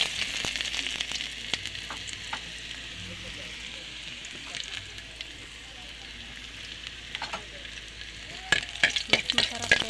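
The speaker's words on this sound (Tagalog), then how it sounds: "ilagay na natin yung bawang." Garlic fries in hot oil for sarsado of banak fish, a steady crackling sizzle with occasional stirring clinks and pops, loudest near the end.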